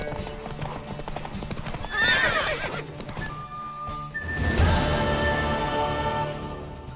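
Horse hooves clip-clop steadily in The Witcher 3 game, with a loud whinny early on and a second burst of neighing and stamping later, over game music.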